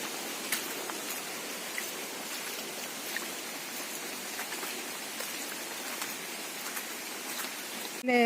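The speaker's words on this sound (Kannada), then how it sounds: "ಈ ದಾರಿಯಲ್ಲೇ ನೀರು ಹೋಗ್ತಾ ಉಂಟು." Rainwater runs along a path through a cocoa plantation on a rainy evening, a steady, close rushing wash of flowing water, with rain pattering throughout and no clear talk.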